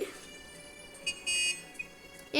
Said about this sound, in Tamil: ஹார்ன் அடிக்குது